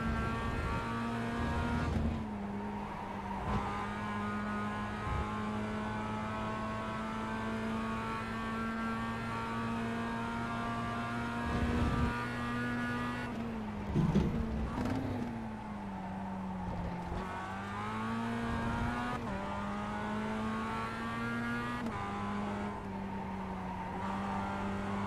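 Mazda MX-5 race car at Laguna Seca in iRacing, its engine droning steadily at high revs throughout, pitch dipping and climbing through gear changes and corners, loud and continuous with no talk over it.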